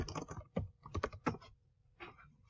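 Fingers type on an unfamiliar computer keyboard, quick uneven bursts of close key clicks with short pauses between them and no voices.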